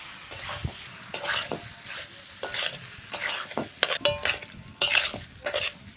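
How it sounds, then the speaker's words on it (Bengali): Potatoes and soybean chunks stir-fried with spices in a pan, a spatula scraping and clattering in irregular bursts over a steady sizzle, close and fairly loud, no talking. "মিনিট 5 সাথে কষিয়ে নিয়েছি আলু আর সয়াবিন মশলার সাথে"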